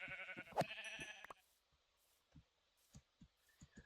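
A white sheep in Minecraft bleats in a short, wavering burst up close, followed by near quiet broken only by a few soft, scattered taps.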